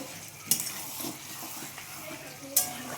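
Fried potatoes being sautéed with mutton in a pan for a thin mutton curry, a soft sizzle with spatula scrapes and two sharp metallic clinks.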